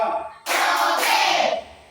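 A classroom claps hands together in a short rhythmic pattern led by a teacher, a sharp close burst of claps lasting about a second, preceded by a brief voice.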